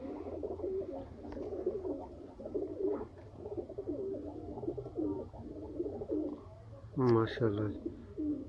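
Pigeons coo in low, soft, repeated throaty rolls throughout, with someone speaking over them and a sharper burst of fluttering or calling near the end.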